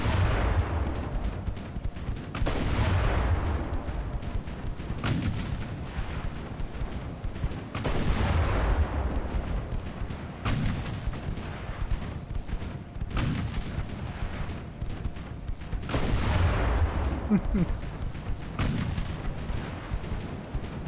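Naval guns firing in the video game Ultimate Admiral: Dreadnoughts, a series of heavy booming shots spaced a few seconds apart, each rolling off into a long rumble over constant sea and engine ambience.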